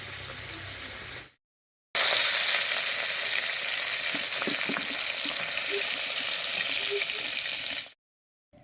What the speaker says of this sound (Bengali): চিংড়ি মাছগুলো হালকা করে ভেজে নিয়েছি